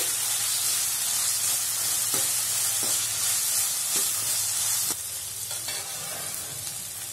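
Ginger garlic paste fries in a hot pan with a steady, loud sizzle, broken by several scraping stirs of a spatula; no voices.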